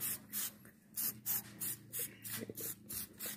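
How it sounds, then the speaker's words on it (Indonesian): A hand sprayer mists MKP nutrient solution onto Jupiter grape leaves in short hissing bursts, about eight evenly spaced pulses, close and moderately quiet, with no talking. "Nah udah semprot aja bagian bawah daun ini juga"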